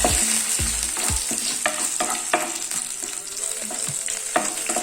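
Spices sautéing on a low flame for rasam: a soft, steady sizzle in the pan, broken by several sharp scrapes and taps of a spoon as it stirs.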